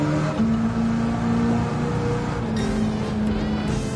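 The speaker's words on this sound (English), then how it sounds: "It's got that NASCAR style exhaust where it's just dumping out the one side" A Plymouth Superbird with a NASCAR-style side-dumping exhaust in Gran Turismo 7 roars steadily at high revs, its loud, droning engine note holding throughout with small shifts in pitch and no talking.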